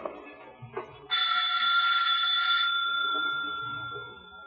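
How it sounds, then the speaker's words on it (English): A bright electric doorbell rings steadily for about two seconds, then a lingering tone fades out in a quiet room, in an old radio drama. "And as Mike rings her doorbell..."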